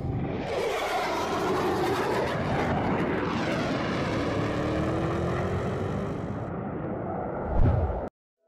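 An OH-6 helicopter lifts off, its loud, steady rotor and turbine roar filling the scene close by, with a rising whine and a brief louder surge near the end before it cuts off.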